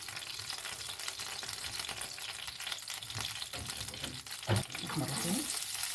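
Onions frying in a pan for a cauliflower casserole, a steady sizzle close by with a stirring scrape near the end.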